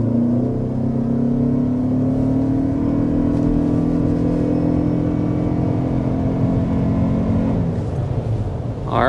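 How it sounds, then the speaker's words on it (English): A Toyota Grand Highlander hybrid SUV accelerating hard to 60 mph, with a steady loud engine drone that climbs in pitch over about eight seconds, heard from inside the cabin without talk. "that was an acceleration to 60 miles per hour"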